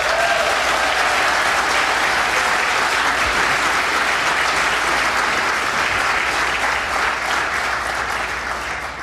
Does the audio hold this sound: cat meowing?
no